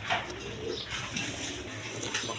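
Pigeons coo softly at a busy pigeon market, low repeated murmuring calls over a faint crowded background hum, with no clear speech.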